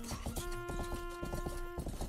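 Slow hoof clip-clops from a wounded horse in the game Rustler, spaced irregular steps close up under a steady tonal drone, with a short whinny-like sound.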